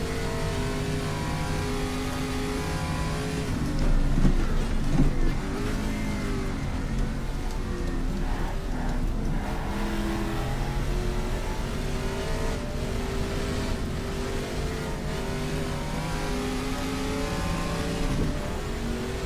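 A Chevron B16 Mazda-powered race car and other racing engines in the GTR2 game at Österreichring, droning and revving steadily at close range with shifting pitch over a sustained roar.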